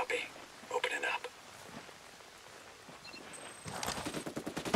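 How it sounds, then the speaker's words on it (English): Gunfire in the shooter game Ghost Recon Breakpoint comes as scattered sharp shots and short bursts, closing in a rapid, sustained stream of automatic fire. "Open fire!"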